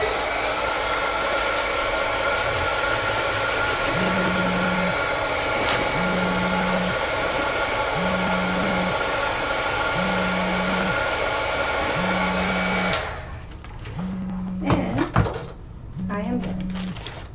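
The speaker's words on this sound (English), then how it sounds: "Put that with the heat tool really quick." A heat tool blows a steady, loud whooshing air stream over a craft journal page with butterfly details, running continuously before cutting off, followed by a few brief handling clatters.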